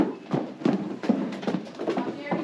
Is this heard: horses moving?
yes